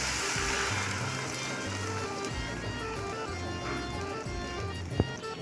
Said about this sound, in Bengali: কাঁচা দুধই ওর মধ্যে দিচ্ছি।